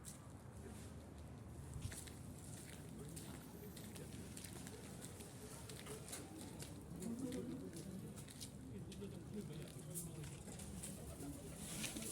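Pigeons coo softly in low, murmuring calls over a steady outdoor hum. There are faint rustles and patter, and distant voices can be heard.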